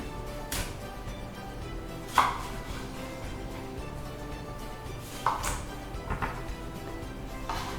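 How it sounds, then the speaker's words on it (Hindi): A knife cuts peeled mango into long strips for Punjabi sweet mango pickle, with a few sharp taps on the board over quiet background ambience. "आम काट लेते हैं।"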